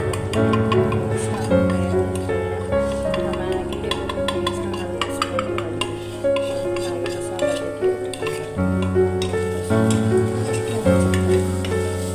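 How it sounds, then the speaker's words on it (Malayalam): Whole spices and Maggi masala sizzle and crackle in hot oil in a pan while tempering for dal khichdi, a steady frying hiss with occasional stirring clinks close by throughout. "ഇനി നമുക്ക് ഇതിലേക്ക് മസാലകളെല്ലാം ഒന്നിട്ട് കൊടുത്ത് മൂപ്പിച്ചെടുക്കാം"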